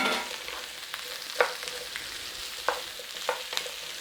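Onion and garlic sizzle in a hot pan with sausage fat, a steady soft crackle with occasional sharper pops and light stirring scrapes, close and continuous with no talking.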